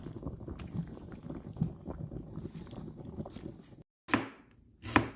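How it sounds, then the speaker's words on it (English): Seasonings such as onion and garlic are chopped for callaloo, with a quick, uneven patter of knife strikes on a board, then a short pause and two louder, separate cuts. "So we're cutting up the seasonings for the CALLALOO."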